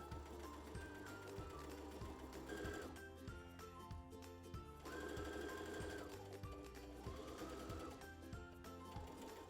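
A sewing machine stitches a pillowcase seam with steady, close mechanical whirring and a rapid rhythmic needle clatter that runs the whole time, briefly changing pitch partway through.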